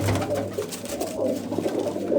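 Breeding pigeons in a loft coo continuously, a low rolling murmur from several birds close by.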